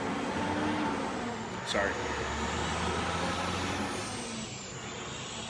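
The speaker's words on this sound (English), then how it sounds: "Windows open, there's a truck going down, so it sounds like a freaking semi." A large vehicle, likely a truck, rumbles past outside an open window in a low, steady drone for several seconds, with a brief hiss partway through and a voice speaking a single word.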